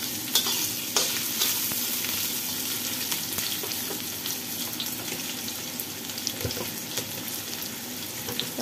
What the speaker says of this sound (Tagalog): Umpisahan na natin ang pag-fry.